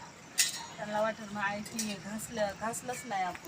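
Metal household pots and water vessels clink and clatter as they are gathered up after being scrubbed to a shine, sharp bright knocks scattered over a few seconds while a voice talks nearby.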